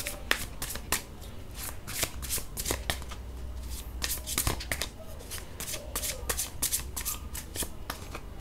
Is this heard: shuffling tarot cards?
yes